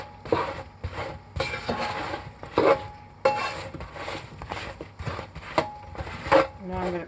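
Potatoes are stirred in a pan of thickening ranch glaze, with a utensil scraping and clattering in repeated strokes close by, and a person talks over it.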